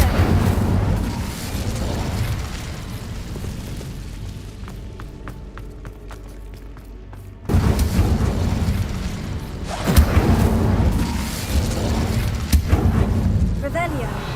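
Incendio fire spells cast in Hogwarts Legacy, heard as loud, low whooshing booms and fiery bursts that hit abruptly midway and again shortly after, over a rumbling game backdrop.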